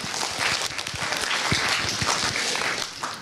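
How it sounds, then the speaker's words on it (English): A school freshman class forum crowd claps and cheers in a noisy room, the applause dense and continuous with scattered voices mixed in. "that's also a round of applause"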